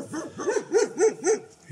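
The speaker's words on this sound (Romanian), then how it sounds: "Sunt întâmpinat de niște câini frumoși." Several dogs barking in a rural hamlet of stone houses in Romania's Țara Moților, four or five close, loud barks in a steady rhythm with a faint whimper between, no talk.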